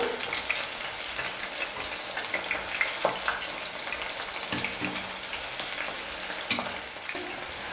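Chicken pakoda deep-frying in a pan of oil, a dense close crackling sizzle with occasional light knocks and scrapes as a ladle stirs the pieces now and then.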